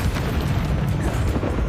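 An explosive spell cast in the Hogwarts Legacy video game gives a loud, booming blast with a dense rumble that fills the whole moment, with no talk over it.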